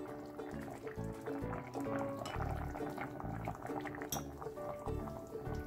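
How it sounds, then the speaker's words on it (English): Tomato puree poured into a simmering pot of potato stew, wet gloopy splashes and bubbling in an uneven rhythm, close and fairly quiet. "So now I'm going to add some tomato puree."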